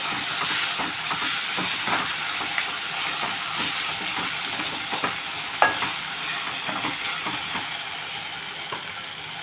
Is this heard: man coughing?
no